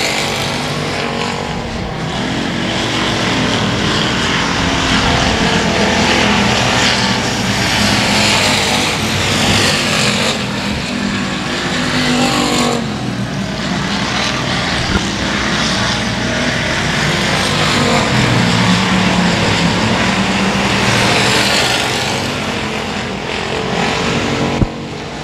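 Race cars circling the Cotton Bowl Speedway during a heat, engines roaring loud and continuous with swells and fades as the pack passes, no voices heard.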